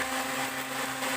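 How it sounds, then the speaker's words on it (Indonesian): A blender grinds spice paste for spicy fried noodles, a steady continuous whirring drone that runs loud and unbroken from start to finish. "Ini bumbunya aku blender aja."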